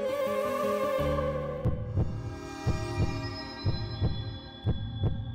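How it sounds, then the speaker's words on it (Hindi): A dramatic heartbeat sound effect from a Hindi television comedy plays as a slow, steady series of deep thumps over a humming musical drone, loud and close, with no speech. "ये आपको दिल की धड़कन सुनाई दे रही है ना?"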